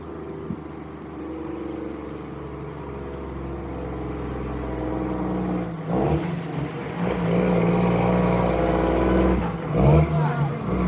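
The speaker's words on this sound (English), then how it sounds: "There's a big truck coming." Big truck on a country road, a low engine rumble building steadily and passing close by, heaviest near the end, with people talking faintly over it.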